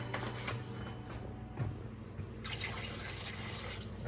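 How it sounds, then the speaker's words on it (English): Raw chicken is washed under a running kitchen tap, with a steady, fairly faint rush of water into the sink and brief splashes and handling clatter, with no talking. "Still, I have to wash the chicken."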